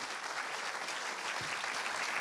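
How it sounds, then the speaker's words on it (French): Sustained applause fills a cinema during a premiere of Les Trois Mousquetaires: Milady, a thick, unbroken patter of many hands clapping for a couple of seconds. "Applaudissez-les encore un petit peu pour qu'ils puissent venir jusqu'à nous."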